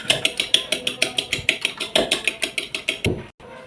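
Eggs beaten in a small bowl, a rapid steady run of about seventeen sharp clinking strokes as a whisk or fork strikes the bowl's sides, close and fairly loud, stopping abruptly near the end with no talking.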